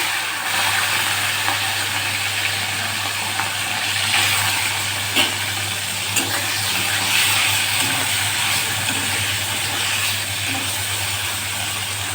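A hilsa fish head fries in hot oil seasoned with cumin and dried red chili, giving a continuous, fairly loud sizzle with a low steady hum underneath and no pauses.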